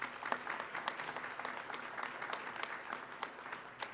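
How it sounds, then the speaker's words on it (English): An audience at an award ceremony for a Trailblazer Award gives a steady round of applause. The clapping is dense and somewhat distant, continuing evenly for the whole stretch with no speech over it. "would ask you to give them another round of applause"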